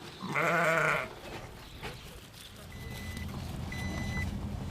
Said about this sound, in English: there are sheep resting in the shade and grazing on the grass among the panels